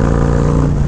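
Harley-Davidson Road Glide motorcycle engine rumbling through its aftermarket exhaust pipe, a steady, deep, loud idle-to-rev burble heard up close for under a second with no talking.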